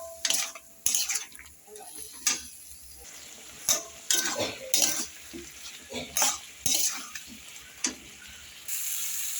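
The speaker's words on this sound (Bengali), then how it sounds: "এখন আমি এটাকে এইভাবে কষাতে থাকবো।" Vegetables being stirred and sautéed in a pan with salt and turmeric for a thin Foli fish curry, with repeated scraping and clinking of a spatula against the pot over a soft sizzle, close and irregular, without talk.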